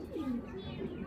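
A young black racer pigeon coos softly, a low brief burble, faint and close.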